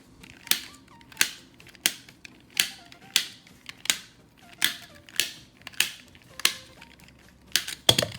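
A twisty puzzle being speed-solved gives a steady run of about a dozen sharp, dry plastic clicks at a fairly regular pace, close and crisp, with no talking.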